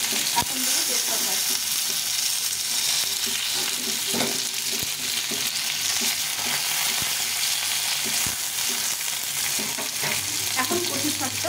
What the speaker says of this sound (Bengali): এখন দিয়ে দেবো এই কাঁচা লঙ্কা, তারপর দেবো রসুনটা।